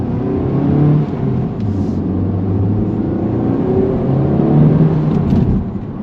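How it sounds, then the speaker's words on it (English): A Honda Civic Type R FL5 fitted with a PRL stage one intake drones loudly and steadily from the engine, a continuous low rumble with mild revving swells and no talking. "hopefully everything over here is just car noises."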